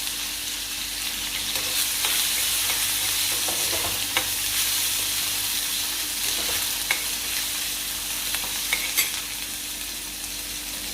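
Chopped onion and coriander sauté in a pan, giving a continuous loud sizzle with frequent stirring scrapes and clicks, close up, with no talking.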